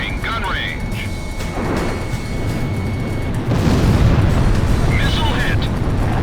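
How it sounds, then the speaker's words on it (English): Missile striking an enemy aircraft in the combat flight game Ace Combat Zero, a loud booming blast swelling over steady jet engine roar, with radio chatter beeps and voices around it. "Missile hit."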